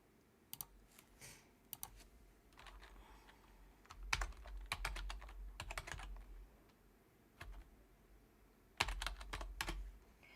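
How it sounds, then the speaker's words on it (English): Typing on a new computer keyboard: quiet, close clusters of key clicks in irregular bursts with short pauses in between, no talking. "I'm using a new keyboard"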